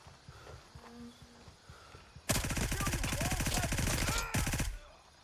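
Automatic gunfire in a video game shooter, a rapid, loud burst of rattling shots lasting about two seconds, with a short break before it resumes briefly, heard after quieter game ambience.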